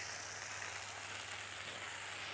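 Tomatoes tipped into a pan of peppers, garlic and olive oil that are already sizzling; a faint, steady hiss of frying runs throughout with no one talking.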